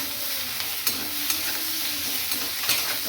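Onion and eggplant frying in oil in a pan hiss steadily up close, with a few sharp scrapes and taps of a spatula as they are stirred, and no voices.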